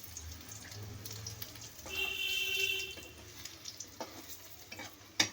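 A chicken moghlai paratha laid into hot oil, with a soft, steady sizzle, a brief louder burst of frying and a few faint clinks from the pan.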